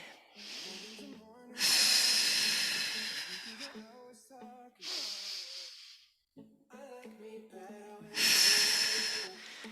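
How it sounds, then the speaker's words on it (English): Slow, deep breaths drawn in through the nose and let out through the mouth during a wall Pilates workout: three long, loud, airy breaths, with a voice speaking in the pauses between them. "in through the nose, nice and slow. Out through the mouth."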